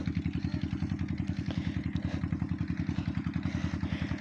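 A tubewell pump engine in a sandy field chugs in a fast, even, thumping rhythm, loud and close, a steady mechanical pulse with no pauses.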